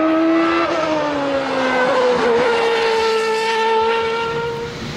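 A Honda HSV GT race car with a 3.5-liter V8 taken from a Formula Nippon car screams past at high revs, its loud, piercing engine note sliding downward in pitch as it passes, with no talk.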